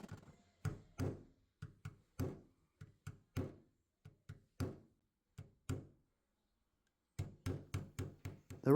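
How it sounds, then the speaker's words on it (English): A hammer taps the edge of a van's sliding door back into line, producing a long series of sharp, close knocks in irregular clusters with a short quiet pause before the strikes resume. "I like just hitting it with a hammer"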